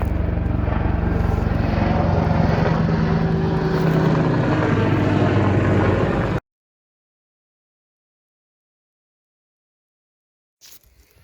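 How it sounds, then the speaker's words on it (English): An Apache helicopter passes overhead as a loud, steady roar of rotor and engine that holds for about six seconds, then cuts off abruptly into silence, with a brief faint noise near the end. "Helicopter's coming"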